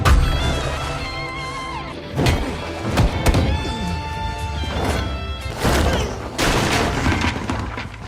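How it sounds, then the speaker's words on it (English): Gunfire and crashing impacts in an action film's shootout, dense bursts of shots and heavy thuds layered over a loud, tonal soundtrack throughout. "Tony showed up shooting in all directions."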